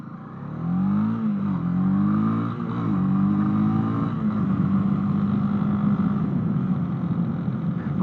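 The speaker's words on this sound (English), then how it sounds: "So I think the chain's just a little bit noisy" Honda CB300R motorcycle with a slightly noisy chain runs close by, its engine note rising and wavering through gentle revs, then settling into a steady buzzing drone.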